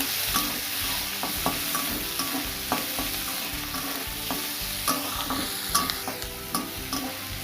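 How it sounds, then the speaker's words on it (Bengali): Tomatoes sizzling in hot oil while a spoon scrapes and stirs the pan, producing repeated clacks over a constant frying hiss. "টমেটোটা একটু ভালো করে ভেজে নেব"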